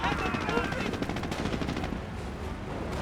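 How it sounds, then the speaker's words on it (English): Heavy tank fire rages in a Company of Heroes 1 battle, a dense, continuous barrage of loud booms and rapid gunfire that never lets up. "Heavy tank fire."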